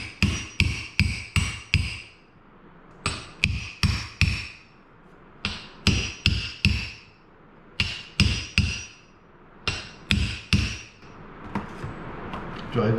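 Sharp metallic hammer blows on a socket driving a seal into an NP241 DLD transfer case, struck close up in quick groups of four or five with short pauses between sets.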